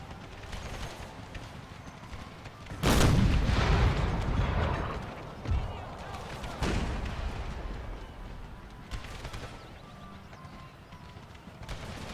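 Deep booming cannon shots in an American Civil War battle video game, one heavy blast followed by rumbling and several further distant thuds over continuous battlefield noise.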